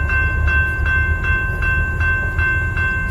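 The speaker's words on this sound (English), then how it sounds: "here comes the train" A train passing at night, a steady heavy rumble with a high ringing tone that pulses at a regular rhythm throughout, fairly loud and with no voices.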